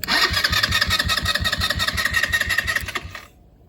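A Chinese ATV's starter motor cranks rapidly and steadily for about three seconds, loud and close, then cuts off abruptly without catching.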